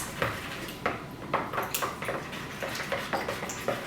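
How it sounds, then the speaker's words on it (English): Spoon stirring a slime mixture in a cup, with soft repeated clinks and scrapes in an uneven rhythm, close and fairly quiet. "you take the spoon and stir it around"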